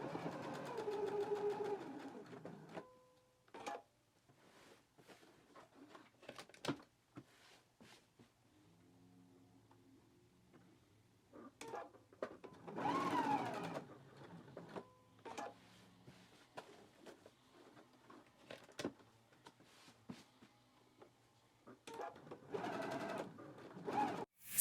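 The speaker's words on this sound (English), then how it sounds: "I am going to go ahead and baste along all of these pleat lines right now" A domestic sewing machine basting along pleat lines on a bodice and lining. It runs in several short stitching bursts of whirring and clatter, separated by quiet pauses and small handling noises.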